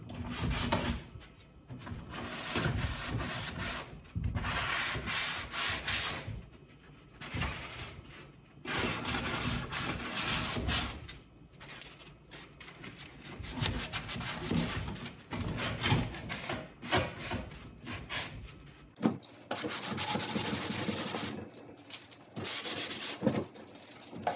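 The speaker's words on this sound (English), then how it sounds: "So I have this foam sanding block, and this has a beveled edge, which makes it nice for getting into these places." Foam sanding block with a beveled edge rubs over an old wooden medicine cabinet in repeated back-and-forth bursts of gritty scraping, each a few seconds long, separated by brief pauses, close and fairly quiet.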